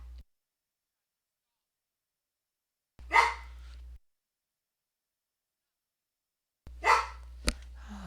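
A pet dog named Shyla barks indoors at a moving light, two short separate bursts several seconds apart, fairly close, with quiet in between.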